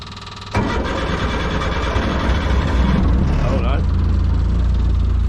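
A hard-starting autograss race car engine with tappy rockers cranks and then catches, going into a loud, rough, rumbling idle close by. A voice speaks briefly at the start.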